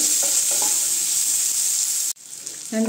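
Onions fry lightly in a pan with whole spices, making a steady bright sizzle with a few stirring knocks. The sizzle breaks off abruptly near the end, then returns.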